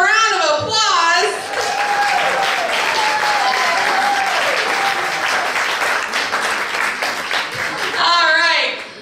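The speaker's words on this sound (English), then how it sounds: "Give them a round of applause." A crowd at a Halloween-themed Rotary Club gathering breaks into sustained applause and cheering; a voice speaks over the start and end, with a whistle-like cry during the clapping.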